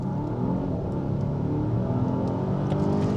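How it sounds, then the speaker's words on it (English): A Volvo XC90 T8 four-cylinder engine pulls from a standstill with a continuous throaty drone and whirring, heard close from inside the cabin without speech. "It's still undeniably a 4-cylinder engine noise"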